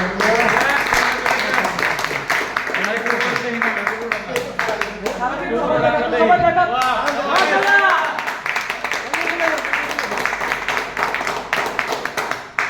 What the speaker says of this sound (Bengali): ওনার জন্য এক জোরদার করতালি